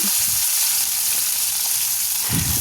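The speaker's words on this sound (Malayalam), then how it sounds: "വെളുത്തുള്ളി നന്നായിട്ട് ഒന്ന് വഴറ്റുക" Garlic sautés in a heavy uruli for kanthari lime pickle, giving a steady broadband sizzle with brief stirring scrapes near the start and end, close and fairly loud, no voices.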